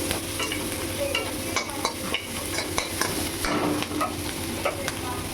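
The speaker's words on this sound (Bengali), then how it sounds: "পেঁয়াজটা লাল লাল করে একটু ভেজে নেবো" Onion, garlic and green chilli fry in a pan while being stirred, a steady close sizzle with a spoon scraping and clicking at intervals throughout, no voices.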